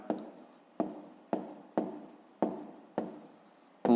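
Pen writing by hand on paper while noting hectares in a fifth-grade maths exercise: six quick scratching strokes in an even rhythm, close and fairly quiet, each starting with a sharp onset and fading, with no voices.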